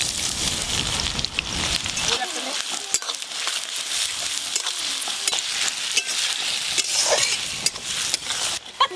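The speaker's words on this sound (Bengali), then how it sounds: "তাই প্রথমে বেরেস্তা ভেজে নেব" Chopped onions fry for beresta in hot mustard oil, giving a loud, steady hiss and crackle that runs for the whole stretch, with occasional stirring scrapes.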